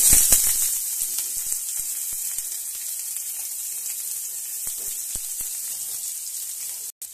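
Chopped onions hit hot oil already seasoned with chilli, bay leaf and panch phoron, giving a loud initial burst of sizzling that settles into a steady hiss, with a few light clicks of utensils.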